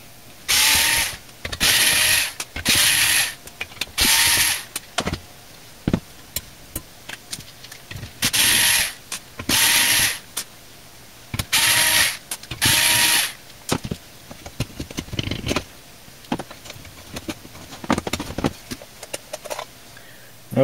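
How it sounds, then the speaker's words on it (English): A screwdriver ratchets screws out of an old Cube computer case holding a Seagate Barracuda hard drive, giving close, repeated bursts of rapid clicking separated by short pauses. "So we're going to pull these screws out."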